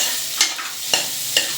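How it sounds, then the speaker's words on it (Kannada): Onion and capsicum fry lightly in a pan for red sauce pasta under a soft sizzle, with three distinct spoon scrapes spaced roughly half a second apart and no voices. "ಇದೆಲ್ಲ ಲೈಟಾಗಿ ಫ್ರೈ ಆದರೆ ಸಾಕು"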